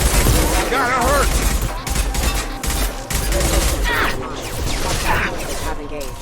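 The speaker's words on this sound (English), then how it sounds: "Shoot them before they take out the shield." Rapid bursts of gunfire from a Mass Effect 2 firefight against Cerberus mechs, loud and continuous over the whole stretch, with impacts and crashes and game voices talking over the battle.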